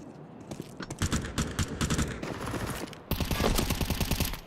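Rapid bursts of automatic gunfire in Counter-Strike 2 during a tournament match, loud repeated shots in quick strings, one sustained volley near the end, with no talk over it.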